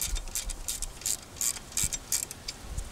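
A ratchet snugging a bolt on the alternator of a 2001 Toyota Avalon during a Bosch alternator replacement, about nine quick clicking strokes in a steady rhythm, close and crisp, with no talking.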